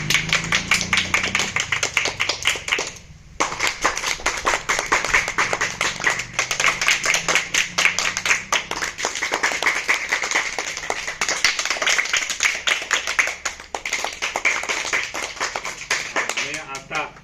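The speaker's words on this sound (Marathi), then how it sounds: "आता आपण काय बघणार आहोत, रेन टाळी" Schoolchildren perform a rain clap in a classroom activity, a dense, rapid pattering of many hands close by that briefly stops and resumes, sustained like falling rain.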